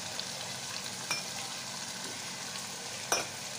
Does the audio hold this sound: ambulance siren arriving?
no